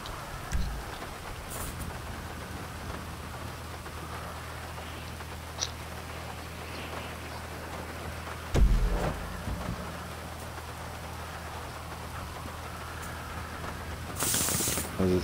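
Steady rain in GTA Online during a race hisses softly throughout, a constant wash of patter with a couple of brief thumps and a short louder burst near the end.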